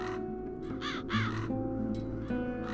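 Crows cawing in the video game The Dark Eye: Chains of Satinav, several harsh caws in quick succession over a steady droning ambient background, moderately near, with no talk.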